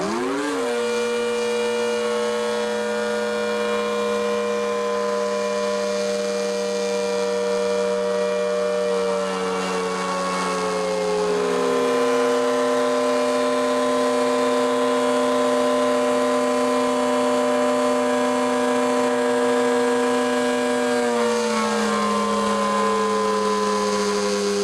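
An ACA Hurricane outdoor warning siren with a failing blower wails loud and steady, its tone sagging noticeably in pitch partway through and dropping again near the end, with no talking.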